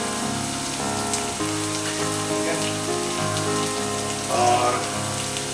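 Cumin seeds sizzle in hot oil, a dense steady crackling patter like rain on a surface, with a brief louder burst near the end.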